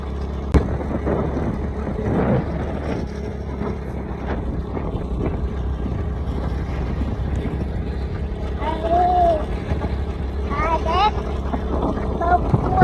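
A motorcycle with a faulty light rides at night with its light switched off, a steady low engine rumble and wind noise running throughout while people talk over it.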